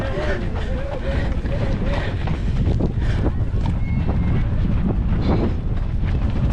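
Wind buffets the microphone throughout with a constant low roar and rumble during a salt-flat half marathon. Faint voices come through under the gusts.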